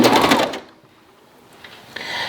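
Serger stitching a gathered knit sleeve seam, a fast close mechanical whir that stops briefly mid-clip before the machine starts running again.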